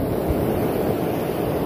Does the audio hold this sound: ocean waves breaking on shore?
yes